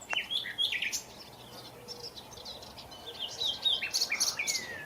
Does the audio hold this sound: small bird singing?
yes